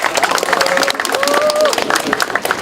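Audience clapping at a signing ceremony for the closure of the Yongsan Let's Run culture center, brief and steady under voices and a crowd murmur.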